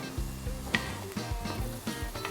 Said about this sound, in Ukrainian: Зараз я перевірю овочі, вони мають бути гарно підпалені.